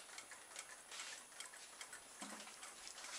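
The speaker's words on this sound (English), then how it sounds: "It's all these solar movers" Soft, steady ticking from small solar-powered novelty movers, a continuous quiet clicking outdoors with no voices.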